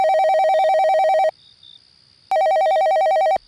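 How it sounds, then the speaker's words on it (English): A telephone rings in two loud electronic bursts with a second of near-silence between them, the tone warbling rapidly and sounding close and alone. "the serenity of the night was cracked sharply by the ring of the phone"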